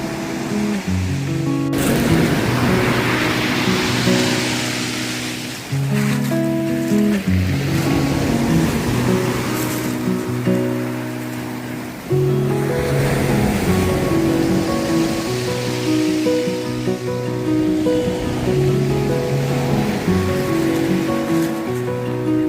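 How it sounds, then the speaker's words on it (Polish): Broad swells of surf wash in and recede on a Greek island coast, large waves crashing in long surges, with a steady tonal hum layered over the water. "Piękna jest ta woda i też są duże fale,"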